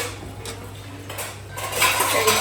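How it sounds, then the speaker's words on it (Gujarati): A cooking pot clatters and scrapes as green undhiyu is stirred in a home kitchen, metallic rattles and cutlery knocks running continuously, growing louder and busier toward the end. "સબ્જી તો એક નંબર બની ગયું પિનલ, પણ વાસણ બહુ ખખડે છે"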